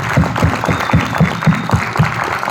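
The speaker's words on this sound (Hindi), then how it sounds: "जोरदार तालियां दोस्तों।" Audience applause at a direct-selling business plan presentation, heard as steady rhythmic clapping in a regular beat with a dense crowd wash, fairly loud and continuous.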